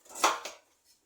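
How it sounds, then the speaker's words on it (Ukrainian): A knife cuts through a zucchini on a board in two quick, soft slices, close and isolated, cutting it into wedges. "Дольками ріжемо кабачок і все відправимо на деку."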